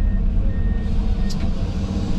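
A truck rumbles steadily while driving on a sand house pad site, its low engine drone continuous and fairly loud throughout, with no talking.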